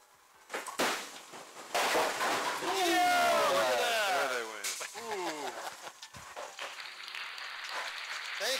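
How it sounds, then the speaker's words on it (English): Crowd at a Sunday garage bowling game cheering and applauding, a loud burst of whoops and clapping that swells and then fades under nearby voices. "crowd goes wild."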